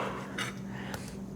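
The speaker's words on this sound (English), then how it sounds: "And I'm gonna cut the tomatoes" A kitchen knife slices fresh tomatoes on a board, giving a couple of short, sharp cutting clicks over a steady low background hum. No one speaks.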